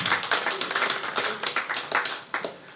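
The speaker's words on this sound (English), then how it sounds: "Shall we have some applause for that?" An audience at a national project management conference applauds, with brisk, uneven clapping from a moderate-sized crowd filling the space.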